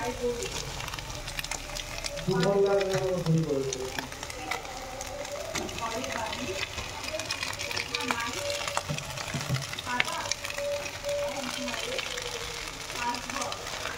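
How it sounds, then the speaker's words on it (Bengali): Boiled chow mein and mixed vegetables being stirred and tossed in a pan, with a steady sizzle and scraping clatter of the spatula running throughout, loudest early on, while a person talks over it. "নাড়িয়ে নিয়ে এবার সিদ্ধ করে রাখা চাউমিনটা আমি এর ভেতর দিয়ে দেবো।"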